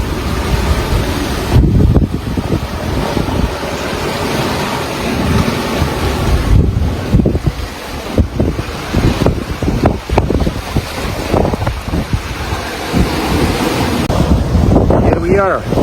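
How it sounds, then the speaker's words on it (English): Strong ocean waves of about three to four metres roll past a sailboat at sea on passage toward Cocos-Keeling, with loud, steady wind rushing over the microphone and repeated surges of breaking water. "regular waves are about 3 meters, but sometimes like this one comes like probably more than 4."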